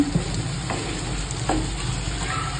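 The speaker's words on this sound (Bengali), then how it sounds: "এটাকে ভালোভাবে আরো কষিয়ে নেব" Tomato and spices, including Kashmiri red chilli, sautéing for rajma in a pan: a steady close sizzle with occasional scraping stirs of the spoon, no talking.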